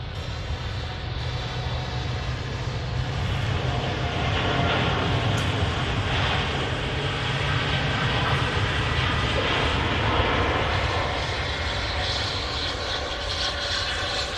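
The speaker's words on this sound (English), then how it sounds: "TUI Dreamliner on the roll to Montego Bay" A TUI Boeing 787 Dreamliner rolls down the runway for takeoff at Manchester Airport, bound for Montego Bay, its steady broadband jet roar filling the scene continuously at a fairly constant, moderately loud level.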